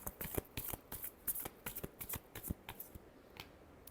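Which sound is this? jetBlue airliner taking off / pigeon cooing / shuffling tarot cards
shuffling tarot cards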